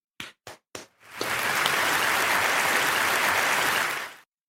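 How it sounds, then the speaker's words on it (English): Three quick sharp claps, then a burst of sustained applause that holds steady for about three seconds before stopping abruptly. "Give yourself a round of applause."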